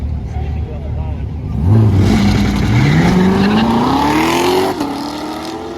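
A car launching down a drag strip at a drag race, the engine revving up through rising gears with a clear shift partway through, loud and close before the note drops off near the end.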